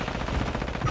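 Rapid automatic gunfire in Warzone 3 rattles loud and close in a dense burst lasting about a second, with no pause between shots.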